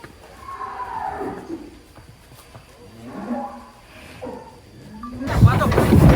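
Large cattle being unloaded from a truck low out several drawn, moaning moos at intervals, fairly close, followed by a burst of louder rumbling noise at the end.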